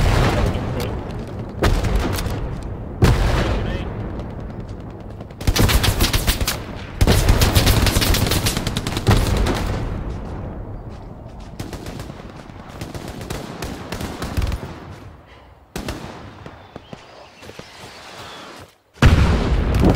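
Loud bursts of machine gun fire and heavy gunshots in Hell Let Loose, a WWII shooter battle on Hill 400, with repeated rattling volleys, booming impacts and brief lulls between them.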